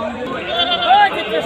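Goats bleat at a large, crowded goat market where animals are tied in groups of ten to twenty along ropes, several wavering cries overlapping amid a busy din and people talking.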